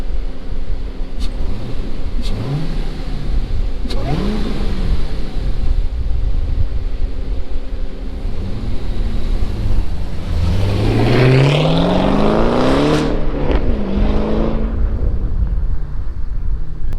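Modded car engine droning through the clip, then revving harder and climbing in pitch as it rolls past, loud and close with no talking.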